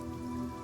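Light sprinkle of rain pattering steadily on surfaces, a soft continuous hiss with fine droplet texture, close and even throughout, with no voices.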